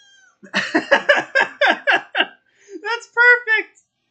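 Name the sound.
cat meowing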